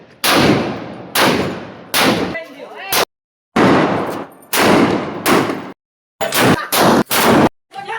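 Diwali firecrackers blasting in a village square, a series of loud, close explosive bangs in uneven bursts with brief silent gaps between them.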